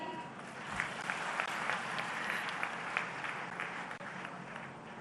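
A seated audience at a women's self-help group gathering in India claps after a livelihood song, a soft, quiet patter of applause that stays even and holds no speech.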